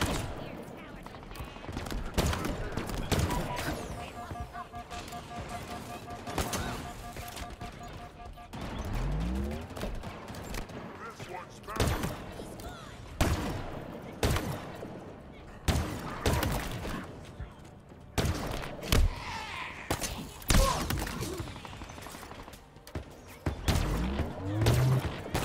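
Gunfire in the game Halo Infinite: repeated bursts of loud, close weapon shots and sharp impacts with crashing hits, scattered across the stretch amid game effects.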